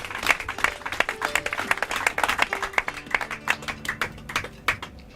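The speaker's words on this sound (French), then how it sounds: "Let's clap up to our God." A church congregation at a sermon by Pasteur Jean Pebe claps in praise, with many hands striking in a loose, rhythmic burst that carries on steadily at moderate volume with no talking.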